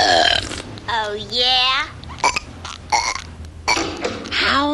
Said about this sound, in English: I absolutely forbid burping in this household.